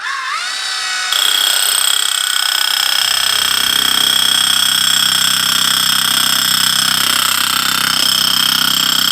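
An electric hammer in impact mode drives into the ground at a house building site in Germany. It gives a loud, steady, buzzing hammer drone that jumps up in intensity after a second and runs on without a break.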